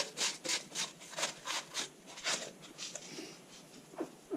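Brake dust being rubbed off the drum brakes of a Nissan 720 pickup, a series of about a dozen dry scrubbing strokes in a steady rhythm, close and moderately loud, with no talking.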